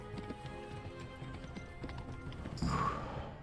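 Horse galloping in Kingdom Come: Deliverance, fast close hoof clip-clops in a steady run, ending in a sharp whinny as the horse is hit by arrows.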